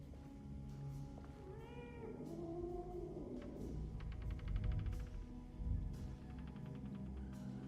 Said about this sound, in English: That sounds like a cat, but we've already seen a cat.